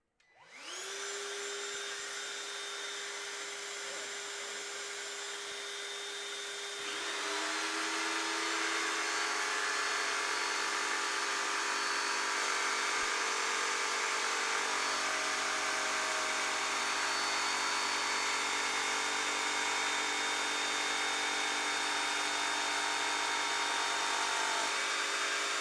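A Rockwell Blade Runner X2 tabletop saw runs together with a Ryobi wet/dry vac used as dust collection, producing a loud, steady whine that steps up in intensity after spin-up and holds continuously, with no talking.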